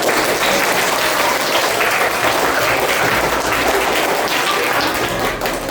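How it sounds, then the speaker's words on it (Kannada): Loud, sustained applause from a large crowd at a government school prize-giving, a dense wash of clapping that holds steady throughout with no pauses. "ಎಲ್ಲರಿಗೂ ಜೋರಾದ ಚಪ್ಪಾಳೆ"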